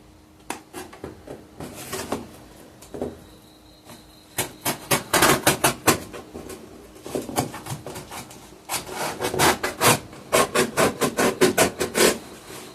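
Cutting and scraping at material for a homemade mobile projector, heard as irregular close rasping strokes and taps that build into quicker, louder bursts, with no talking.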